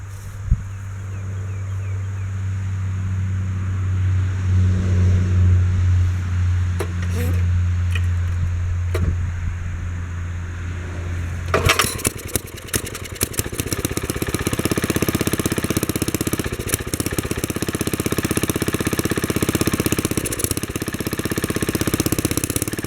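A cold Wheel Horse 704 lawn tractor engine, choke fully on, cranks and catches about halfway through, then runs at a steady, loud idle close by after a quieter stretch of low hum and small knocks.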